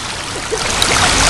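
Water in a stream flows with a steady, close hiss and trickle, continuous and fairly loud with no voices over it.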